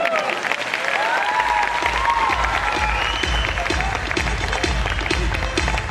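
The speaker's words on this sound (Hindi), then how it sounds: "ताली बजाना तो ढंग से बजा दो।" An indoor audience at a Kangen water session in Indore claps together in a full, sustained round of applause, loud and continuous, with a voice speaking over it at the start.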